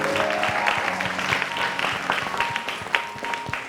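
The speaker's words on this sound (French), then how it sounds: "Je pense que ça s'applaudit" Audience applause at a French-language book event honoring a work for the children of Côte d'Ivoire, a steady wash of many hands clapping throughout, moderately loud with a faint tonal hum underneath.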